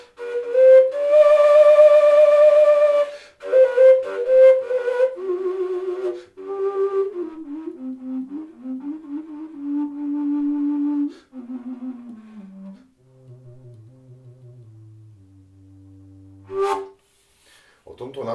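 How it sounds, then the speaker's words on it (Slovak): A breathy fujara, a Slovak folk overtone flute, plays a slow melody with bright high harmonics, then drops into lower, airy tones, alone and close. "Takže to je fujara, ktorá znie takto."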